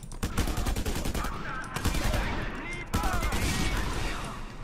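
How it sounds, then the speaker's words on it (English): Dense gunfire from a Just Cause 2 firefight, rapid shots and bursts crackling nonstop from several directions, loud and close, with a voice speaking over parts of it. "Getting shot from every which way."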